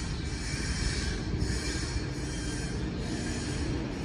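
A train rolls past on a railway track beside an old tomb wall in Shahdara, Lahore: a loud, continuous rumble with wheel squeal and rattling, close by and steady, with no voices.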